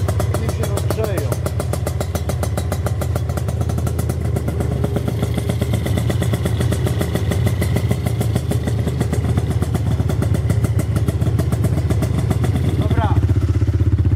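A quad bike engine runs close by with a rapid, steady mechanical pulsing that stays loud throughout, and someone speaks briefly over it.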